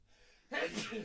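A single close sneeze bursts out abruptly after a quiet moment, followed by a faint breathy trail, in a casual indoor podcast setting.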